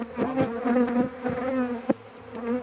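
A swarm of honey bees buzzing close by, a dense continuous hum with wavering pitch, loud and alone, broken by one brief knock.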